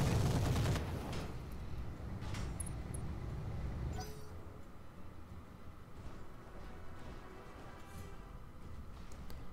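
Mech weapons firing together in the game Roguetech, a loud dense barrage opening with heavy blasts, then settling into a continuous rumbling roar of fire and explosions with scattered sharper cracks throughout.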